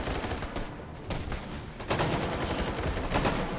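Dense, continuous gunfire rattles on in a speedrun of a shooter video game as a player fires infinite ammo, a loud sustained fusillade of rapid shots with no pauses.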